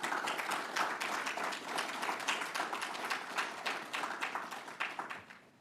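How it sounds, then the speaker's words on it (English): A room of guests at a metro operations graduation and promotion ceremony applauds the graduates, with dense, even clapping that holds steady for over five seconds and tapers slightly near the end. "So let's give our graduates a round of applause."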